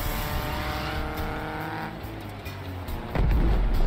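Car engine in the Crossout vehicle combat game drones loudly as the car drives and slides, the tone shifting midway, before a sudden heavier burst of noise near the end; no talking.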